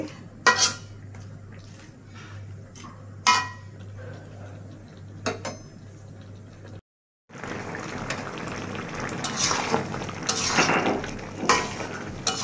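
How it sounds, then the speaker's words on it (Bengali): Bottle gourd curry with fish head being stirred in a pan, giving intermittent metal clinks and scrapes of a utensil against the pan over a steady low cooking hiss, with a brief pause partway through. "এখন বারবার আরও একটু নেড়ে চেড়ে নিয়ে তারপর নামিয়ে নিতে হবে"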